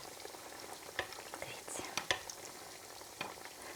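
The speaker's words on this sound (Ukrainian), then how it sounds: "Смажимо до рум'яної шкоринки." Oil sizzles and crackles steadily as dough pastries (biliashi) fry two at a time, spooned with oil, with scattered pops and soft clinks of a spoon, quiet and close throughout.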